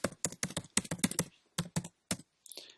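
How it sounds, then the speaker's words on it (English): A computer keyboard being typed on up close, with a quick burst of distinct key clicks followed by a few more spaced taps and a brief pause, no voices. "For the title, I'm just going to type in introduction."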